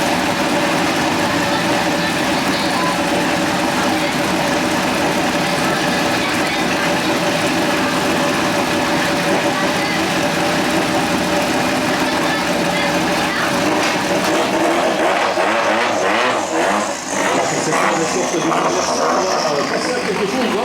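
Rally car in Bastos livery, entered by Team Red for Patrick Sneyers and Danny Collet-Ludes, its engine running with a steady mechanical drone at the Ardenne Rally Festival, under continuous commentary talk, with a rougher burst toward the end.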